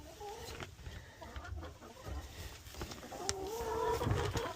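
Backyard hens cluck and cackle softly while being shut in for the night, a low continuous murmur of clucks with a few rising calls, near but quiet.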